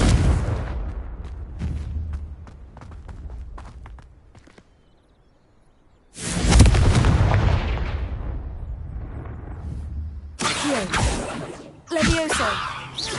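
A Confringo blasting curse goes off in the game Hogwarts Legacy as a sudden loud booming explosion with a long rumbling decay, after scattered footsteps and impacts, then sharper magical blasts follow.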